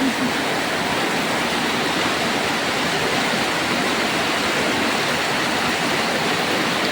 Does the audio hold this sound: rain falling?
yes